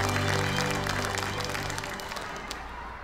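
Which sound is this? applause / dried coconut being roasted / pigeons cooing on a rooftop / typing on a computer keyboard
applause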